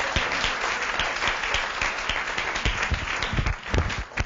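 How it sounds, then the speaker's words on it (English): An audience at a book launch gives a round of applause, many hands clapping in a dense, lively burst that holds steady, with a few louder individual claps standing out near the end. "Can we give him an encouraging round of applause?"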